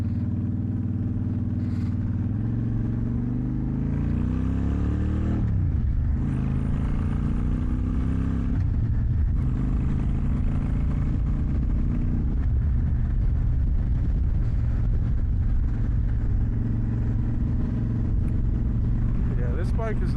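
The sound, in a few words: motorcycle cruising through city streets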